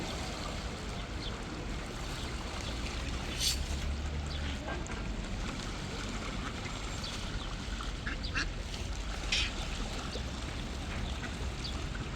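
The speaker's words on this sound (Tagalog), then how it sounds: "Ang alaga nga pato." Ducks quack now and then over a steady background of running water or a motor, with faint voices in the distance.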